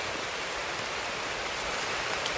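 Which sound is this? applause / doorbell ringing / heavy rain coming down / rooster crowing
heavy rain coming down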